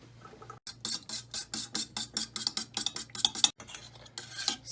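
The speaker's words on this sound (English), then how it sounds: "So I've mixed the egg together." Eggs and lime juice whisked together in a bowl for key lime pie make a fast, steady rhythm of close, bright scraping strokes, briefly pausing twice, with no talking.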